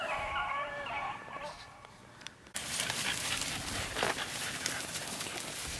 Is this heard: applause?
no